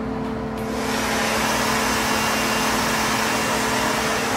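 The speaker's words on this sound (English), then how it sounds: "And always keep the blow dryer on a cool heat, not too hot because it'll melt the glue." A blow dryer set to cool blows on lace wig glue, a steady, loud whooshing hum with a constant motor tone that starts up at the beginning and then runs evenly, close to the microphone, with no talking.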